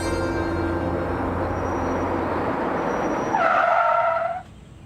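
A car skids to a stop on the road in Gadchiroli, with a loud broadband engine rumble giving way to a sharp, rising tyre squeal near the end that cuts off abruptly.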